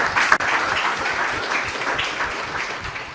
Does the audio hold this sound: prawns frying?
no